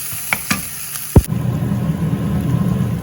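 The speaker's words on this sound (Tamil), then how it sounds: "இந்த வெங்காயம் இந்த பூண்டையும் போடுவோம் போட்டுட்டு அப்படியே மெதுவாக கிளறுவோம்" Onion and garlic tossed into a pan for a cabbage stir-fry: a few sharp clinks and a thud, then a sudden rush of loud, even sizzling as they are stirred, close up and without talk.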